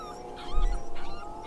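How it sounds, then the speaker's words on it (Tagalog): A dog whimpers and cries at night in a short, close, wavering whine that pulses a few times before fading. "tila iyak ng isang aso"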